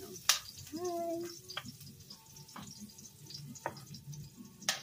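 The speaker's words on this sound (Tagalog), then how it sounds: "Gigisa tayo ng bawang at sibuyas guys" Garlic and onion sautéing in a pan over a wood fire, a soft steady sizzle under a few sharp utensil clacks and scrapes, with a brief voice near the start.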